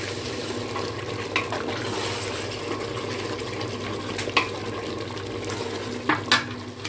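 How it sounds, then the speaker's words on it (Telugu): Food and spice powder are stirred and mixed in a pan with a soft continuous scraping and faint sizzle, broken by a few sharp clinks of the utensil. "మిక్స్ చేసి బాగా కలుపుకున్నాం ఇంకోసారి."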